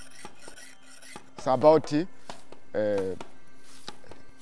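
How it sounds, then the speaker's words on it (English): Short, sharp strikes of a small axe on wood while carving out a dugout canoe in Zambia, arriving as scattered taps across the clip, with someone speaking briefly in the middle. "then you take a sharpening axe, small one."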